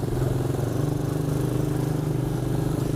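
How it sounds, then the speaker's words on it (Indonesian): A 125 cc automatic diesel ATV runs at close range during a test ride, its engine chugging in a steady low, rhythmic putter with no change in pace across a few seconds. "Untuk unit yang kedua ini kita sedang test ride ATV diesel ya. Yang 125 cc matic."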